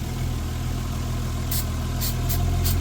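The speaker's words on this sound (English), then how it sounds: "Oh, you hear how it idled up?" Car engine idling steadily after carb cleaner is sprayed onto the exhaust manifold near a wastegate, a continuous low droning rumble with a rising, busier hiss in the last second as the idle picks up.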